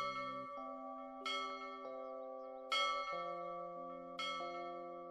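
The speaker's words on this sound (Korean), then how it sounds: "종소리가 댕댕 울리더니" Bells ring out in slow, overlapping strikes, each tone sustaining and layering into a resonant, chiming peal.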